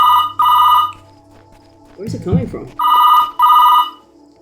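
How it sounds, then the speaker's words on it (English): A telephone rings in a house in loud, evenly paired bursts, two rings, a pause with a voice asking something, then two more rings. "A real life phone call."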